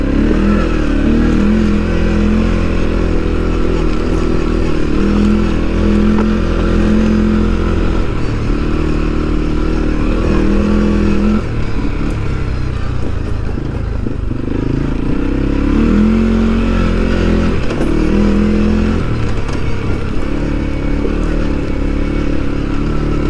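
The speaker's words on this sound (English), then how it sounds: "It is an all-terrain vehicle after all." A CFMOTO CFORCE 400 all-terrain vehicle engine drones loudly and close throughout the ride, its pitch rising and falling with throttle changes, joined by occasional clattering and scraping from the machine, with no voices.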